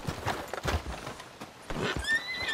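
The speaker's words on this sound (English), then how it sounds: "Just admiring your horse there." Hooves clip-clop steadily as a horse whinnies loudly near the end, set against a busy backdrop in the video game Red Dead Redemption.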